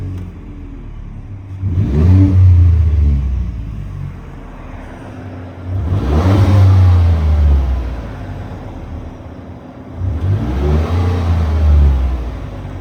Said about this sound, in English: We're gonna do a quick rev test, and this does, like I said, does have the dual exhaust